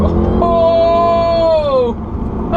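A Mercedes C63 AMG engine accelerating hard, a loud rising multi-toned howl that climbs steadily in pitch, then drops off abruptly as it lifts, heard close from inside the car.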